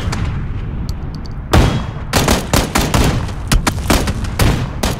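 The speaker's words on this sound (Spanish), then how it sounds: "Le pegué unos disparos, no sé si le hice." Loud, sharp gunshots from a video game, fired in quick irregular bursts with rumbling booms beneath, close and continuous across the clip.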